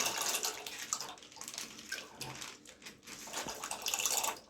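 Water is poured and splashed into a pot for boiling homemade pasta in a village kitchen, an irregular gurgling and sloshing stream with a few clinks of the vessel, nearby and fairly loud.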